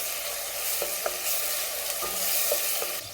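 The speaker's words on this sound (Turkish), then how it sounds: "Biraz soğanı soteleyelim." Chopped onions sautéing in a pan with salt and chili flakes, a steady close sizzle with occasional soft clicks of stirring, no voices.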